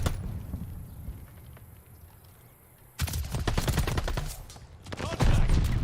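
Gunfire at the hardpoint in a Call of Duty multiplayer match, with a quieter stretch of sporadic distant shots followed by dense, rapid automatic bursts that grow louder toward the end.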